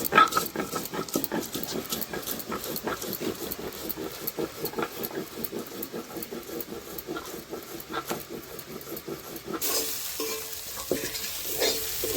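Fish frying in a mustard spice mix in a pan, stirred with repeated scraping over a steady sizzle that rises near the end; close, moderate and without speech.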